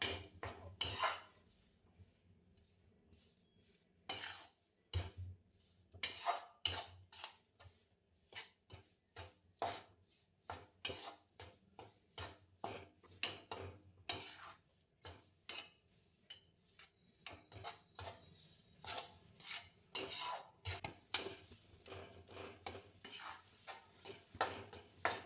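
Flour for Gujarati sukhdi is roasted in a pan and stirred constantly, giving a long run of quiet, rhythmic spoon scrapes and rubs against the metal, stroke after stroke, with no talking.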